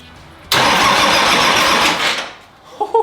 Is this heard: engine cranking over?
yes